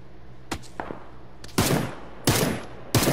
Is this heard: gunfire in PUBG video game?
yes